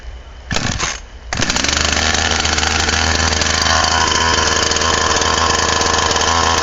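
Chainsaw fired up by the ground start method, a brief pull and sputter then the engine catching and running loud and steady at close range, a harsh continuous two-stroke drone with no talk.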